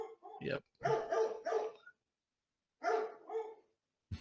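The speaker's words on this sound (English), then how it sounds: "I apologize about my dogs." Dogs barking indoors in short, loud bursts close by, with a person speaking briefly between the barks.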